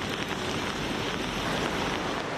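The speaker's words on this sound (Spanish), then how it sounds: "Así baja el río Cinca a su paso por Ainsa, con más de 300 metros cúbicos por segundo." The swollen Cinca river in flood at Ainsa, carrying over 300 cubic metres per second, gives a dense, steady rushing roar with no pauses and no voices.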